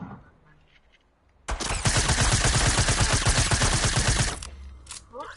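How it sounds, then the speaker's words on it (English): Rapid burst of pistol gunfire in a one-on-one video game match, a loud dense run of shots lasting about three seconds, with quieter game sounds before and after. "I'm using my pistol"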